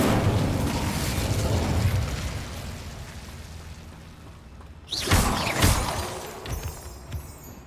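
An Incendio fire spell from Hogwarts Legacy bursts with a loud, close whoosh and crackling blast, following a rumbling stretch of game ambience and trailing off in smaller flaring pops.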